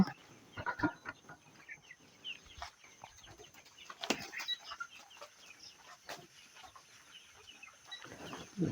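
Chickens on a broiler farm cluck in a loose, irregular stream, with a few louder squawks standing out near the start and around the middle against a steady barn background.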